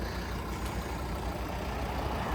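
A Volvo V50 D3 five-cylinder diesel engine idles steadily nearby, a low rumbling chug that holds even throughout.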